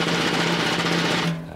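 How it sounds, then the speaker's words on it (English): Rapid, continuous snare drum roll from a theatre organ's built-in snare effect, dense and bright, holding steady before stopping abruptly near the end. "a snare drum,"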